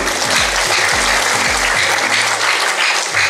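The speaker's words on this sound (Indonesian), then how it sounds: "Tepuk tangan untuk wisuda isi ya" A graduation audience at ISI Padang Panjang bursts into loud, dense applause that stays steady throughout, with a low murmur of sound underneath.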